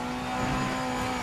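Race car engine held at full throttle in the sim racing game Project Motor Racing, a steady sustained drone with a constant tone throughout, no talk over it.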